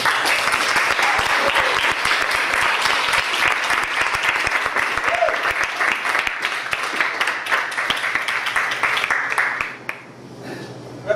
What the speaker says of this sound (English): a huge screaming round of applause for Mr. David Fagan